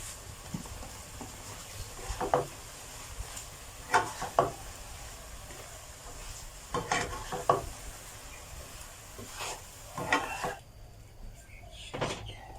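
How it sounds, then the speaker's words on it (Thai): Spatula scrapes and clatters against a pan stir-frying young coconut shoots and chopped basil leaves in irregular bursts over a soft background sizzle, close by. "ใส่ใบยี่หร่าที่หั่นลงไปผัดก่อน ผัดให้มันสุก"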